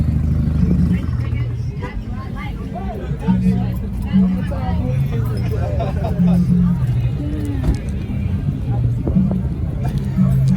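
At a car meet, a car engine rumbles and revs low beneath loud, overlapping conversation and crowd chatter, with the engine note rising and falling in short bursts.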